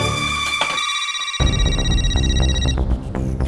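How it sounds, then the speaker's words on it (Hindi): A telephone ringtone plays steadily with a bright electronic tone over a low hum, no voices. "फोन बज रहा है"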